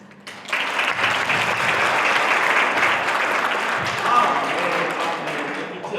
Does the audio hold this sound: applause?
yes